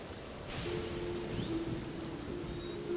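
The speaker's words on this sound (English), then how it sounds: "Oh good, it's raining." Steady rain hisses softly and continuously in a video game, with a faint tonal hum running underneath.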